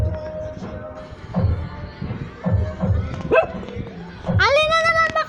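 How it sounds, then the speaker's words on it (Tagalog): A pet dog barks in a run of short, sharp yaps, with a few whimpering yips mixed in and a high, whiny bark near the end, alongside a person's voice. "Tahol ka ng tahol."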